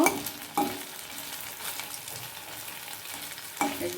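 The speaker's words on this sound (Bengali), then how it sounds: "এটা আমি এরকম সবকটা পনির ভেজে নেব" Paneer cubes frying in oil in a pan, a continuous close sizzle with a few sharper spits and turning clatters near the start and end.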